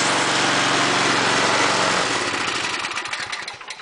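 Briggs and Stratton L-head small engine running after a cold start, a steady loud buzzing drone that drops in pitch and fades toward the end, with no talk.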